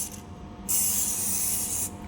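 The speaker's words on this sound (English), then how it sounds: "we need to use WD-14 and spray to the clean cloth." A can of WD-40 sprays onto a clean cloth during radial machine maintenance, giving one sharp, steady hiss of a little over a second, close and alone over faint background hum.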